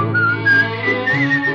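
A brief whistled melody from a Pedro Infante song, a thin wavering tune of a few gliding notes over a low harmonic backing, lasting under two seconds.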